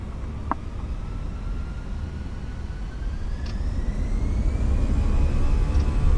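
Air France A320 jet engines spooling up at takeoff throttle in the flight simulator MSFS 2024, a broad steady roar that slowly builds in loudness with a faint rising whine, no talk.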